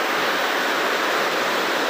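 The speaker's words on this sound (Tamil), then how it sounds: "இந்த நீர் வந்து கீழே நம்ம போகக்கூடிய அந்த அருவிக்கு போயிடும்." Water rushes down a rain-fed hillside stream toward a waterfall in the Javvadhu hills, a steady, close, broadband hiss with no voices.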